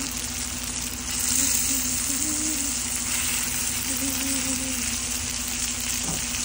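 Hilsa fish frying in a pan, a bright, continuous sizzle up close with a faint steady hum underneath and a brief clatter near the end.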